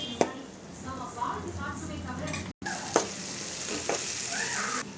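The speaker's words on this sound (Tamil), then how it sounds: "2 மினிட்ஸ் ஃப்ரை பண்ணலாம்." Masala fries in hot oil in a pan, a steady crackling sizzle with occasional clinks and scrapes of stirring, heard up close.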